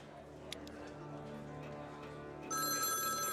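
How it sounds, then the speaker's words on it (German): A telephone in the game Infected starts ringing with a bright, steady electronic tone over a low humming background near the end. "Jetzt können wir auch Anrufe entgegennehmen."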